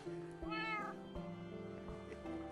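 A cat in Minecraft meows once clearly with a rising-falling wail, then softer chirpy mews follow, close and alone.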